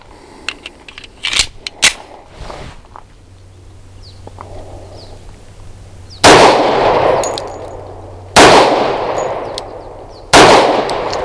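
Three loud, close gunshots from a Bersa B1911 pistol firing Federal HST 230 grain ammunition, each sharp crack followed by a short echoing decay and spaced about two seconds apart, with fainter handling and shuffling sounds before them.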